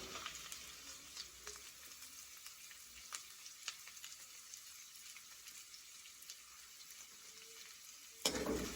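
Sliced onions and green chillies sauté in a pan with a steady crackling sizzle and scattered stirring scrapes throughout, ending in a louder burst near the close.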